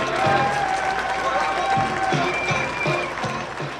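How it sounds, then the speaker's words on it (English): Crowd applause for a departing baseball pitcher at a Cheney Diamond Dawgs vs San Diego Waves game, a steady wash of clapping with a commentator's voice talking over it throughout. "Listen to the round of applause he gets"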